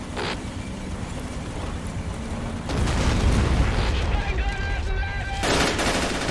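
Artillery rounds explode in Men of War: Assault Squad during a WWII Operation Barbarossa battle, a dense continuous rumble of blasts and gunfire that grows heavier and louder midway.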